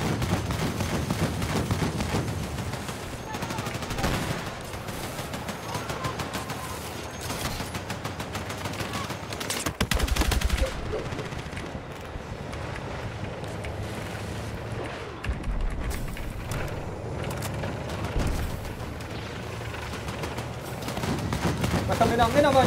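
Gunfire in the Battlefield 6 multiplayer video game crackles in dense, continuous bursts with occasional heavier booms, loud throughout, while players talk over it.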